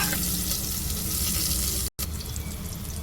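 Onions and curry leaves frying in hot oil for a green-chilli, coconut and ivy gourd curry: a steady, dense sizzle that fills the clip, with one brief dropout partway through.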